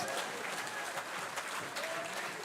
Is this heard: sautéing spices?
no